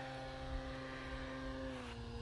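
Skynetic Bison XT STOL RC airplane flying at half throttle at night, a steady electric motor and propeller drone with a constant pitch that dips slightly near the end, faint and distant.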